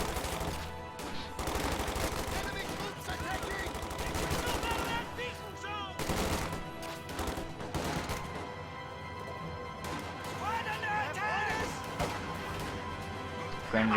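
Rifle and machine-gun fire crackles from a World War II strategy video game, with dense, rapid volleys and crashes running continuously over busy battle noise.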